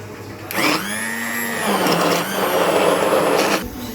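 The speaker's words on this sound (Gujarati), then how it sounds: "જો આપણે હવે ગ્રાઇન્ડ કરીશું" Mixer grinder whirring as it grinds curry leaves and chillies for Gujarati kadhi, a loud steady motor whine that runs in two or three pulses with brief dips between them and no voices.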